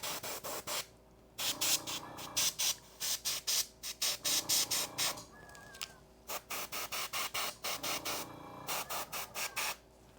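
Spray paint misted onto a Creature Caster dragon miniature: repeated short hissing bursts from a nearby aerosol can, some quick and clipped, others held longer, with brief quiet gaps between.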